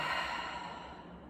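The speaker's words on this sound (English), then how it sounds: "Open mouth, exhale." A long open-mouth exhale during a gentle yoga flow, a soft breathy whoosh that starts strongest and slowly fades over about a second and a half, heard alone with no talking.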